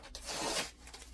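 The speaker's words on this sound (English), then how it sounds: "Just got to open up the tape here on the side." Tape being peeled off the side of a parcel box during an unboxing: a short, close ripping rasp that swells and fades within about a second.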